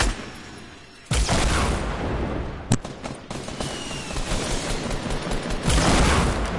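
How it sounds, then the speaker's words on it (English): In Fortnite, a grenade blast bursts in with a loud boom, followed by rapid close gunfire with sharp cracks and rattling volleys that keep going to the end. "I downed one with a grenade."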